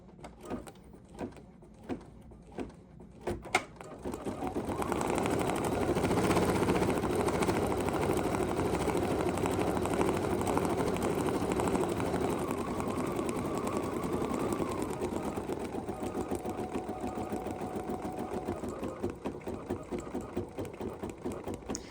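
Sewing machine fitted with a 44C foot stitching a mixed media collage at slowed speed: a few sharp clicks, then a long, steady whirring run up close, with no talking.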